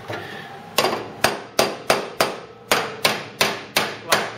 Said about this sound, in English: used a ball peen hammer and we've tapped down all the way along